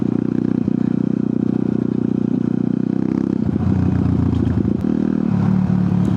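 A TVS Apache RTR motorcycle engine roars loudly and steadily as it accelerates off-road through extreme mud, its note shifting partway through with clattering and scraping mixed in, close and continuous with no talk.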